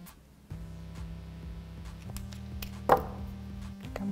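A metal chain being cut with a tool while making a choker: a steady low hum underneath, with one sharp snap near the middle.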